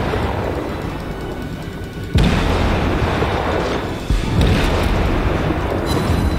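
Destroyer Gremyashchy's naval guns firing in the video game World of Warships, two sharp loud booms a couple of seconds apart over a constant roaring battle ambience, with no talk.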